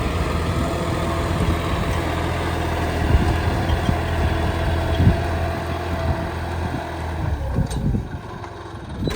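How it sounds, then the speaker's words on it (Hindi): A John Deere tractor with a Balram plough digs a pond, its diesel engine rumbling steadily and close, with the load rising and falling and some clanks from the implement. "देखो ये हमारा जॉन डियर गिराई कर रहा है"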